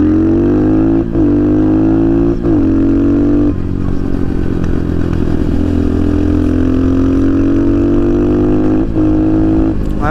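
A budget dirt bike with a Nibby carburetor revving, its throaty engine climbing and dropping in several loud, close throttle blips against a steady running drone, with no talk.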